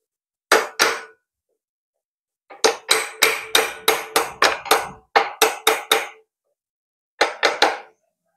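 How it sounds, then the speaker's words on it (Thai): A hammer drives a wrench onto a part of a Honda Wave 125 motorcycle during steering-neck repair work: loud, close metallic blows in groups of two, about a dozen, then three, with no talk. "ค้อนตอกก่อน"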